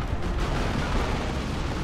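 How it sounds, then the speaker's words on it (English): Heavy plasma cannon fire in a 3v3 Dawn of War 2 match, a dense, continuous rumble of blasts and explosions that fills the whole stretch without pause. "power has well and truly been bashed by plasma cannons"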